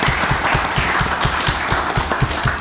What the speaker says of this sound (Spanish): un fuerte aplauso para la compañera